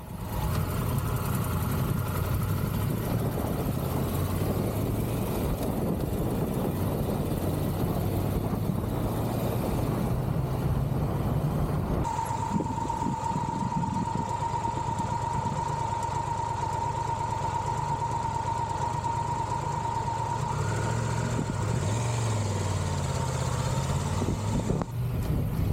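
Engine noise inside a moving vehicle, a steady low rumble with road drone that shifts partway through, joined by a thin, sustained whine for several seconds before it fades.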